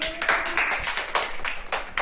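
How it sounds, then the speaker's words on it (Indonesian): Audience at a school presentation claps, close rhythmic claps in a brisk run over a few seconds. "Ya beri tepuk tangan dulu"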